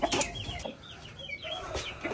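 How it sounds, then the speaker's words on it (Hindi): A long-tailed rooster clucks in short, irregular bursts close by, with soft farmyard rustling between the calls. "लंबी दुम का मुर्गा है"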